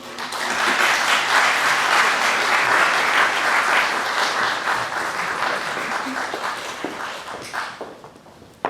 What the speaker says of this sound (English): Please join me welcoming Jinyoung and Jiyeon to the stage with a warm round of applause.